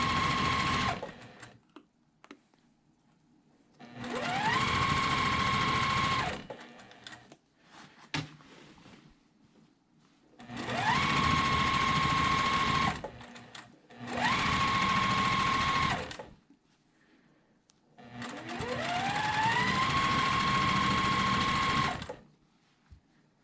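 A sewing machine stitches quilt blocks with foundation paper attached, running in four loud bursts of steady whirring with quiet pauses between, the motor pitch ramping up at the start of each run.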